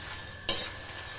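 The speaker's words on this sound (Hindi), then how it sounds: "मखाने थोड़े से घी में रोस्ट कर रही हूँ और थोड़ा सा जीरा डाल दिया है।" Fox nuts roasting in ghee with cumin, stirred in a pan, giving one short scraping rustle of a spoon amid a faint background hiss, with no talking.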